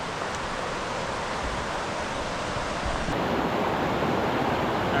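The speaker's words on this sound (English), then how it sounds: "So we got a nice river access here." Steady rushing water of a river at Eagle Creek, a broad continuous flow heard up close at a backpacking campsite, with no voices.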